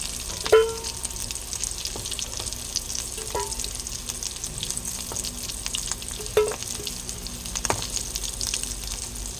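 Taro pieces fry in oil with a quiet, steady sizzle, broken now and then by soft clinks and taps of a utensil against the pan as pieces are lifted out.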